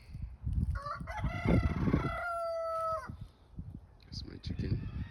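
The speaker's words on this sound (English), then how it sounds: "That's my chicken." A rooster crows once in a frost-damaged winter garden, a long rising then sustained call cutting over low background noise and scattered talk nearby.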